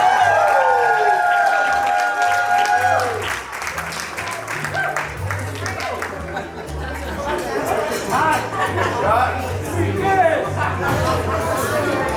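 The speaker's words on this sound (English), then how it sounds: "Please give him a round of applause." Wedding reception guests applaud and cheer for the best man, a broad wash of clapping and crowd chatter with music underneath, moderately loud and continuous.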